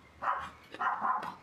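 A neighbour's dog barks noisily outdoors near a bushcraft woodcarving session, two separate bursts of barking at moderate distance, clear and fairly loud, with no talk over it.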